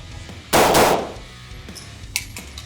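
A pistol fires outdoors at night: a loud burst of two or three rapid shots with a ringing tail, then a sharper single crack about a second and a half later, against a quiet background.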